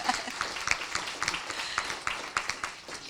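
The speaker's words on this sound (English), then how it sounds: "Will you give her the clap of encouragement?" Scattered audience applause in a hall, a short burst of clapping of encouragement that stays fairly soft and uneven throughout, with a little background murmur.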